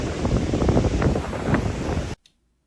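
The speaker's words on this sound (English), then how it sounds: "All right, it's a little windy." Outdoor wind buffeting a microphone late at night, a loud rushing roar that cuts off abruptly.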